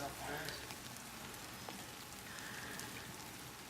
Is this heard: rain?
yes